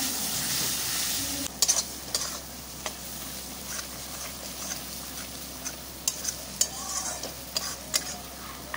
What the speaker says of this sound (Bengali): টমেটোটা দেওয়ার পর আমি সবকিছুকে আবার একটু ভালো করে কষিয়ে নেব